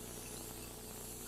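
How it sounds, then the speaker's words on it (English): Cooking spray hisses steadily onto a baking pan in a home kitchen while an apple strudel is being prepared, a close, continuous spray lasting about a second with no talking. "I'm gonna spray my pan"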